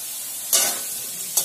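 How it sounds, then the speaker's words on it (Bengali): Potatoes frying in oil with salt and turmeric give a steady close sizzle, broken by two brief louder bursts as a spatula stirs them, no talking. "আলুগুলো লাল লাল করে ভেজে নেব"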